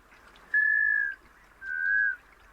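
Scoter duck call: two drawn-out, clear whistled notes, each about half a second long, separated by a short pause, heard alone against a faint, quiet background.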